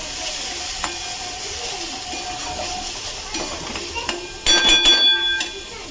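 Rinsed, still-damp oats fry in a pan over a low gas flame, giving a soft, steady sizzle. Light clinks and stirring scrapes grow busier toward the end.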